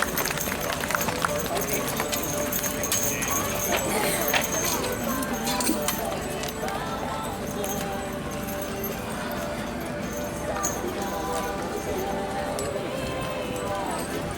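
A team of draft horses pulling at a fall fair horse pull, dense crowd and announcer voices over clopping hooves, jangling harness and dragging rumble, loud and continuous throughout.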